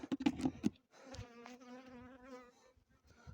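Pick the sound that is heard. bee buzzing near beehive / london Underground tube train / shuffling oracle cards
bee buzzing near beehive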